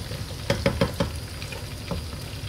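Lamb and turnip curry with browned onion fries in a pan, giving a low steady sizzle broken by a quick series of clattering stirs and scrapes, close and fairly quiet.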